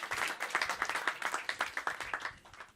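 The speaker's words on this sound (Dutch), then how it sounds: "En een heel hard applaus voor Jonathan." A small live audience at a stage show claps in quick, fairly rhythmic bursts, close and moderate in level, with no talking over it.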